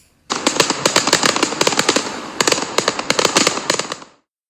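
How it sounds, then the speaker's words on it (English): Celebratory fireworks set off after a Nottingham Forest football win, a rapid string of loud crackling bangs in uneven bursts with brief gaps, close and sharp, with no talking. "Which means fireworks because our adopted team has won a game."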